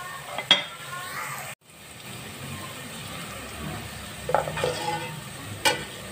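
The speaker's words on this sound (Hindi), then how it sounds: "अब मैंने जो लौंगें और ज़ीरा, काली मिर्चें बचाई थी, मैं ये भी डाल दूँगी ताकि ये भी अच्छे से फ्राई हो जाए" Onions frying in a pan with cloves, cumin and black pepper, giving a continuous close sizzle with occasional stirring scrapes and clinks, and no talking.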